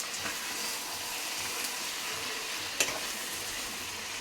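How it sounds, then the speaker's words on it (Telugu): Chicken frying in a pan on low heat gives off a steady, even sizzle with faint crackles and one sharper pop near the end, close by and with no voices over it. "సిమ్లో పెట్టి ఒక్క 5 minutes fry చేస్తండి tasty chicken fry ready అయిపోతుందండి"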